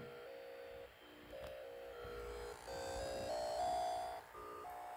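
A thin electronic tone from a demodulated radio signal steps through a simple melody resembling Für Elise, note by note, over a soft hissing background hum.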